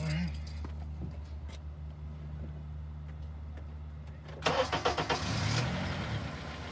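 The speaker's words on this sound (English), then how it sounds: "I'm going to start the car and start the scope" A Honda car engine cranks over with a quick burst of starter chugs and catches, then settles toward an idle after a quiet stretch of low hum.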